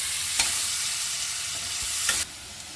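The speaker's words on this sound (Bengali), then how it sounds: "পেঁয়াজটা লাল লাল হয়ে ভাজা হয়ে গেছে।" Onions fry with a dense, steady sizzle in a pan while a spoon scrapes and stirs them a couple of times, close up and without talk, the frying cutting off near the end.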